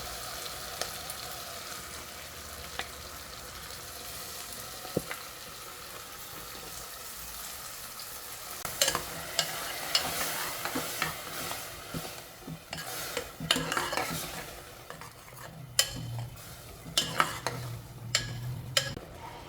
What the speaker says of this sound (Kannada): ಈಗ ಪಾಲಕ್, ಶುಂಠಿ, ಹಸಿಮೆಣಸಿನ್ಕಾಯಿ ಪೇಸ್ಟ್ನ ಹಾಕುತ್ತಾ ಇದ್ದೀನಿ